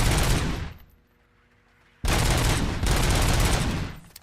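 Automatic rifle fire in the video game RoboCop: Rogue City, heard as two loud, dense sustained bursts separated by a short near-silent gap, close and dominant with no talk over it.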